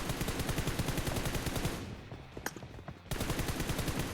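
An M4 rifle fires in PUBG, two sustained rapid automatic bursts close up and loud, separated by a short gap with a few faint clicks.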